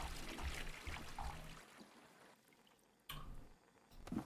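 Water pours into a brewing kettle in the Brewmaster beer-brewing simulator, a steady splashing fill that runs for about a second and a half, drops away to near quiet, then surges back loudly for the final second.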